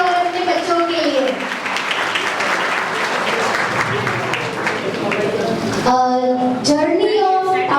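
Audience applause at a school event fills the room with dense, sustained clapping, joined toward the end by a voice speaking over it.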